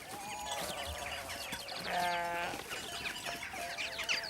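A sheep carrying cattle egrets on its back bleats in the Provence countryside. Several wavering, nasal bleats come from close by over a soft outdoor background, the loudest near the middle.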